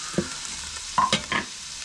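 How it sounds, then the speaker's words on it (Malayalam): Sliced onions hitting a hot pan for Kerala-style kappa biriyani, a few short sizzling bursts and stirring scrapes, close and clear with no talk. "അപ്പോൾ ഇനി നമുക്ക് അതിലേക്ക് സവാള ഇട്ട് കൊടുക്കാം."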